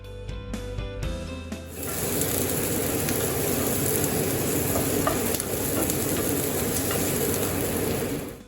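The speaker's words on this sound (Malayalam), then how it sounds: "അതിലേക്ക് എടുത്തു വെച്ചിട്ടുള്ള ഇൻഗ്രീഡിയൻസ് എല്ലാം കൂടി ഇട്ട് നല്ലതുപോലെ ഒന്ന് വഴറ്റിയെടുക്കാം." After a few scraping knocks, onion, ginger and garlic hit hot coconut oil in a pan and break into a loud, dense, continuous sizzle that carries on evenly, close by and with no voices.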